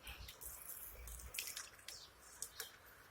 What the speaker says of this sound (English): pour a little bit more water on,